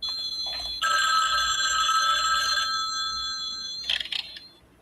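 Telephone ringing in a scene from the TV show Knots Landing, a single sustained electronic bell ring lasting about two seconds, followed by a brief clattering noise as it stops, then quiet.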